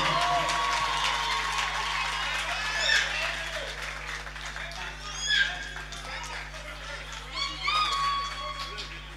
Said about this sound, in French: J'aimerais s'il vous plaît que vous applaudissiez César Baboulou.